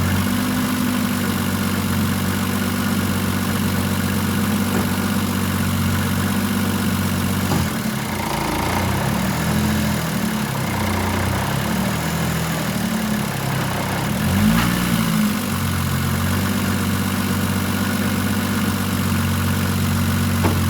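A 2JZ engine swapped into a BMW E36 idles steadily and close by, a continuous low rumbling drone with a brief shift in tone partway through.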